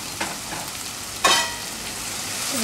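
Spices with turmeric and red chilli powder sautéing in a pan for a drumstick amti, giving a steady close sizzle with one sharper stirring scrape partway through and no talk.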